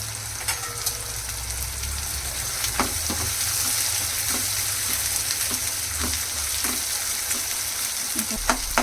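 Meat frying in oil in a pan, a continuous close sizzle and crackle with scattered light clicks of stirring throughout.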